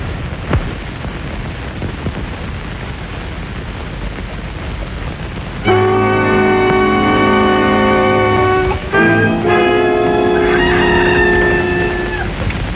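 A rooster crows in a 1952 Filipino film about a talking chicken. After a stretch of hissy background noise, two loud, drawn-out crowing calls ring out back to back, the second ending in a falling, wavering note.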